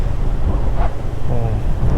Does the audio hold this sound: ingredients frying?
no